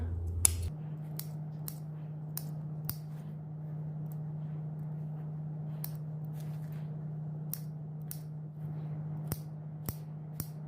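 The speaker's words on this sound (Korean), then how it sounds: "여기 곡선 부분에 가위밥 줍니다" Scissors snip notches into the curved edge of fabric while sewing a jar-shaped dress, a string of sharp, quiet clicks spaced irregularly over a steady low hum, with no one talking.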